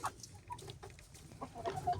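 A five-month-old chick clucks softly in short, scattered bursts with a few brief chirpy notes, fairly faint against a quiet background.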